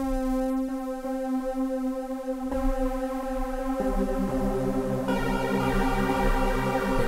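A sustained synth pad holds rich harmonic chords that change every couple of seconds, with a thick, slightly wavering texture from three-voice detuned unison and no voices.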